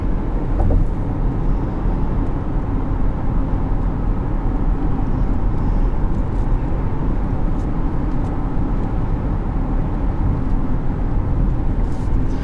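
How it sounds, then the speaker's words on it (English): Inside a 2020 Chevrolet Equinox with a 4-cylinder engine while driving, a steady, even cabin rumble of engine and road noise holds throughout at constant loudness, with no speech. "It does have a good amount of power for a 4-cylinder."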